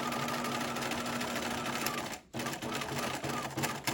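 Sewing machine stitching a half-inch seam on a welt pocket, a steady close motor hum and rapid needle clatter running continuously, with a brief pause midway.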